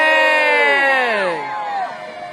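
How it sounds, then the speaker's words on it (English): A large outdoor crowd at a naval battle re-enactment event cheers loudly on cue, a dense mass of voices and whoops rising together and then fading away. "This side, I'd like to hear you have a cheer."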